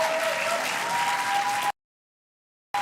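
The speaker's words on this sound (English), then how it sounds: "Another round of applause to Paarl Girls" Audience clapping for Paarl Girls High at a school awards announcement, a dense steady burst of applause with a faint tone running through it, cutting off abruptly into silence.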